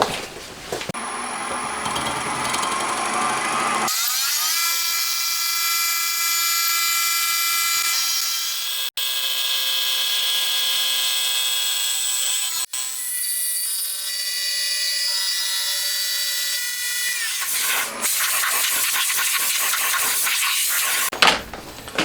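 Milling the edge of a Honda Monkey cam chain side cover on a machine, producing a loud, steady high-pitched cutting whine with brief interruptions, the tone shifting between passes before tapering off.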